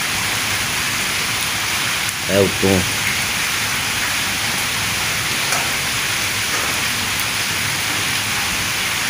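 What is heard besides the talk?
heavy rain falling in a Punjab village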